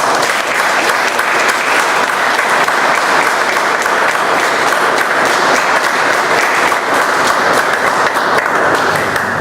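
A Bombay Toastmasters Club audience gives steady, loud applause for a Table Topics contest winner, with dense continuous clapping from many hands filling the room and no break.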